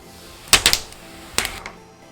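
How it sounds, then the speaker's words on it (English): Crinkly plastic wrap being pulled off a new MSI GE76 Raider laptop, in two short bursts of sharp rustling and crackling close by, with a brief quiet gap between them. "Of course, we gotta remove the plastic."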